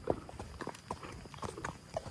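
Horse hooves clip-clop at a relaxed walking pace while riding, a quiet, uneven series of close knocks with faint background sounds and no talk.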